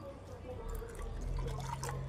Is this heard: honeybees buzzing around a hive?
no